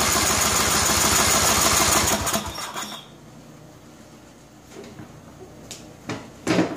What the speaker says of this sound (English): Okay, choke's on. We're going to crank it.